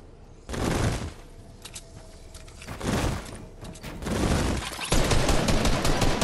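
Automatic gunfire rattles in Fortnite, several loud bursts of rapid shots separated by brief lulls, the final burst lasting longest and hardest.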